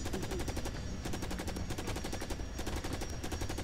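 Rapid automatic gunfire from a vehicle in Carrier Command: Gaea Mission pounds at an island turret in fast, evenly spaced bursts, loud and continuous with brief gaps, with no voices over it.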